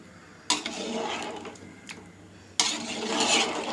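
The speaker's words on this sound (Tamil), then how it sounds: "ஜென்டிலாக பார்த்திங்கன்னா மிக்ஸ் பண்ணி விடுங்க" Chicken biryani masala being gently stirred in a cooking pot, with sharp scraping and clanking of a spoon against metal in short bursts and a louder, sustained stretch of scraping near the end.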